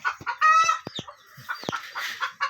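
Chickens on a pig farm cluck and squawk in short, loud bursts close by, with one longer crowing call early on, broken by quiet gaps.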